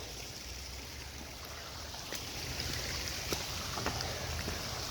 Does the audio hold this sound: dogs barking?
no